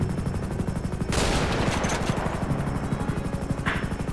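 In GTA 5 roleplay, a loud gunshot bursts out near the start, followed by a ringing tail, while a helicopter's rapid rotor thump runs steadily underneath throughout.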